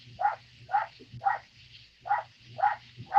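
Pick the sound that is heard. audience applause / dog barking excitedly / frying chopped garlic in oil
dog barking excitedly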